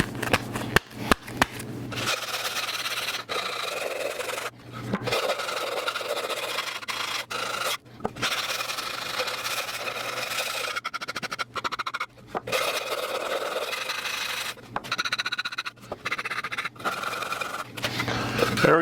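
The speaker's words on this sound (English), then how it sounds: "Instead, I'm going to use this with round sandpapers on it." Wood for a sliding cabinet drawer tray is hand-sanded with a tool fitted with round sandpapers. Close, continuous scraping and rasping strokes go on throughout, broken by short pauses.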